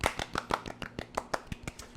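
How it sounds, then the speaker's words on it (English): Two podcast co-hosts clapping together, a sparse run of close, sharp claps in an irregular rhythm for a couple of seconds. "can I get a round of applause by the two co-hosts right here"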